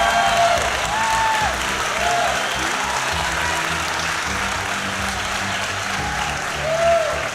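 A political rally crowd applauds a young girl's speech, with steady, dense clapping for the whole stretch, some scattered whoops and cheers rising above it, and a brief swell near the end.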